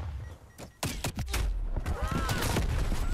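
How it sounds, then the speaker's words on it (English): Automated sentry turrets fire in Call of Duty: Black Ops Cold War multiplayer, a Hardpoint match, with sharp bursts of gunshots and thuds that grow denser and keep up steadily through the second half amid game noise. "Multiple hostile sentry turrets working your AO."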